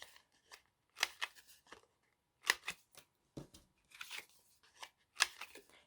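A hand punch cuts through paper in short, crisp snips and crunches, several separate bursts at irregular intervals, fairly faint and close with no talking.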